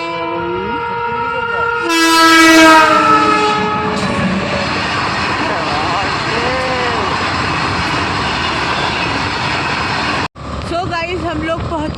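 A train pulls through a crowded station in Kithaur, Uttar Pradesh, opening with a loud, sustained horn blast and then a steady rolling rumble of cars that cuts off abruptly near the end, with voices in the background.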